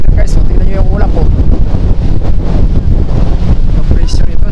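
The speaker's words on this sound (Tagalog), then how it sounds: "malakas ang hangin" Strong typhoon wind at sea off Baler, Philippines, buffets the microphone with loud, gusting rumble and roar, continuous for several seconds.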